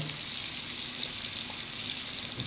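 Bacon fries in a pan with a dense, even sizzle and crackle of hot fat, close and continuous, and no voices.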